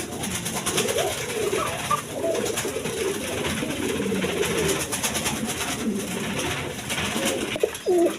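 Big red Gola pigeons coo repeatedly in soft, low, throaty calls, several birds overlapping against a steady background hiss.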